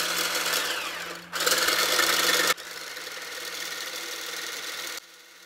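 A Lidl blender runs in turbo mode with a loud, steady, high motor whine that shifts in pitch and intensity a few times before dropping to a lower hum, close up and with no talk.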